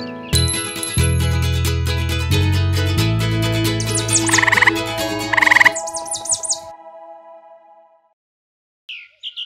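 A cartoon frog in a children's bedtime story croaks in deep, rhythmic bursts over a jingly musical backing, loud and close, before the sound drops away into near silence.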